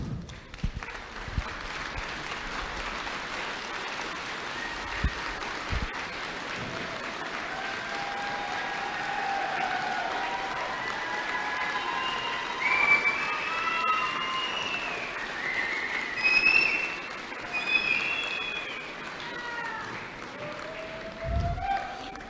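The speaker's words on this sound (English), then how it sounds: "please give them a round of applause." Sustained applause at a Navajo Technical University commencement honoring the graduates' parents, broad and steady for about twenty seconds from a large crowd, with scattered high whoops or whistles rising above it.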